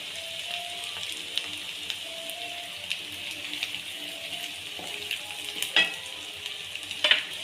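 A spice paste being sautéed in a pan for street-style pav bhaji, with a steady close sizzle, occasional soft scrapes and clinks of a spoon, and a faint tonal hum in the background.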